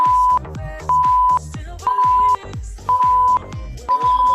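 Workout interval timer sounding a run of five loud electronic beeps, each a sustained tone lasting about half a second and spaced roughly a second apart, with no talk over them.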